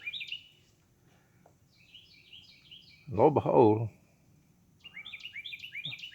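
Birds chirp and tweet outdoors in quick repeated high trills, fairly faint and in the background, pausing while someone speaks briefly in the middle before the chirping resumes.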